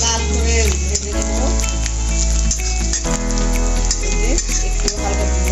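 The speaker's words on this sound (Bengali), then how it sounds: "পেঁয়াজটা একটু আমি লাল করে ভেজে নেব।" Sliced onion sizzles and crackles loudly in hot oil in a home kitchen, a dense, continuous frying hiss with occasional stirring clunks.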